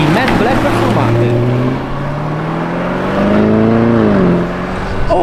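A matte black Lamborghini Huracán Performante drives past on the road, its engine tone rising and bending as it nears and passes, loud and close, with people talking over it.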